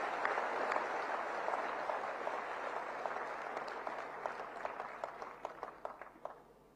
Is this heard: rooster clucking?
no